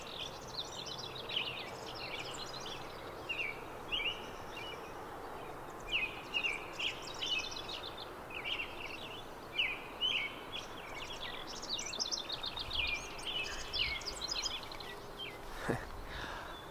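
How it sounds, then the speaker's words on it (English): Birds chirp and twitter in repeated bursts of morning song over a steady outdoor hiss, several calls overlapping at moderate distance. "You hear the birds?"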